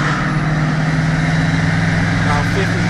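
A Ford 6.7 Powerstroke diesel truck engine at about half throttle while cruising uphill, a steady loud droning hum, with a voice speaking over it.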